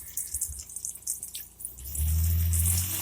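Flood coolant sprays onto a machine tool from a cheap, leaky coolant setup. Scattered splashing and dripping give way to a sudden, louder, continuous rushing spray with a low hum underneath once the flow is turned up.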